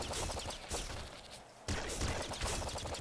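Rapid gunfire from the Nuclear Throne video game, continuous bullet-heavy bursts of shots and impacts, loud and dense, with a brief dip in the middle before the firing resumes just as hard.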